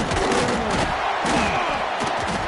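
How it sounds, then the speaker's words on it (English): Football stadium crowd roaring steadily during a college football kickoff return, a dense, loud wash of cheering with no pauses. "this crowd is buzzing after that last score"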